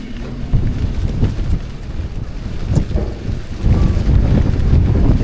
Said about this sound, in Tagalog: Sobrang lakas ng ulan mga tropa.